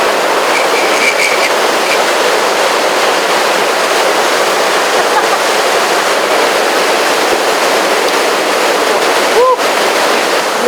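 Creek water rushing steadily and loudly close by, a continuous broadband flow that covers the whole stretch without a break.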